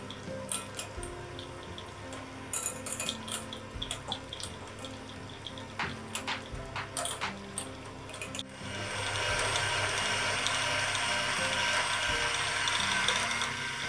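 An electric mixer whips slightly firm butter until creamy and light: scattered clicks and handling sounds at first, then a steady, close whirring drone that runs without a break to the end.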